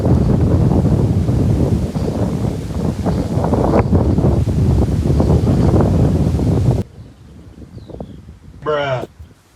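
Strong headwind buffets the microphone outdoors during disc golf putting, a loud continuous roar with gusty low rumble for most of the stretch before dropping off sharply to quieter ambient noise with a brief rustle near the end.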